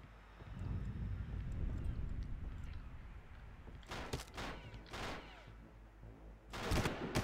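Gunfire in Far Cry comes as sharp bursts of shots after a rumbling stretch, with several cracks between four and five seconds and another burst near the end, fairly loud over a low background.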